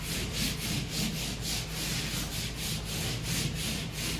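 Hand rubbing down a newly installed vinyl top on a 1968 Thunderbird, a steady, even run of brisk scrubbing strokes close up with no voices.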